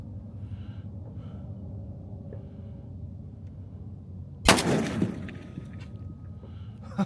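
A single sharp report from a scoped PSL 7.62 rifle being test-fired for zero, one loud burst with a brief decaying tail standing out against steady outdoor background noise.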